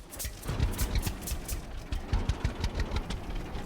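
A road tractor engine runs steadily in Farmer's Dynasty, a close, rough mid-low rumble with a rapid knocking pulse and no speech.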